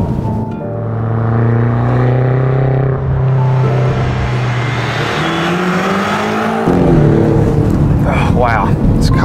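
A 2016 BMW X6 M engine under way on country roads, a loud, deep exhaust note climbing through the revs, dipping at a gear change and pulling again, heard from inside the car.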